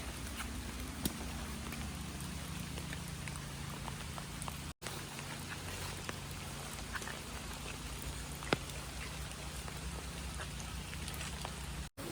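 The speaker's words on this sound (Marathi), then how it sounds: "पाऊस पण तसा कमी आहे" A steady, soft patter of rain falls throughout, with occasional faint drips and a brief pause midway. Nobody speaks.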